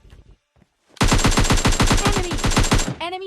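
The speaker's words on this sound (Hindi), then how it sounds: "यहाँ से किसी ने ऑटो फायर करा था" A loud burst of fully automatic gunfire in PUBG Mobile Lite erupts after a near-silent pause, a fast, even string of about twenty shots for two seconds before tailing off.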